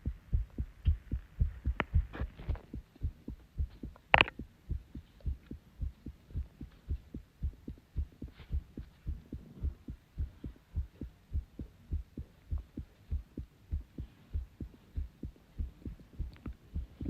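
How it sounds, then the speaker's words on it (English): A steady thumping heartbeat sound effect plays in the Roblox PTFS flight game, a low even throb repeating about twice a second for the whole stretch, alone with a faint hum. "that's just my heart beating."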